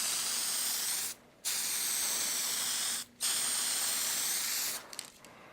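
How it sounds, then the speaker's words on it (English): Aerosol spray paint hisses close up onto a plastic model kit in long, steady bursts, broken by two short pauses and a sputtering cut-off at the end. "I just do a couple of test sprays there, and then I can do the spray."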